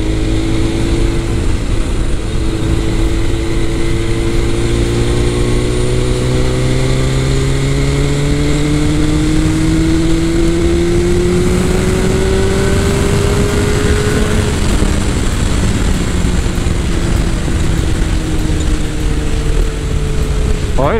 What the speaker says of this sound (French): Ouais, il emmène bien ce petit moteur.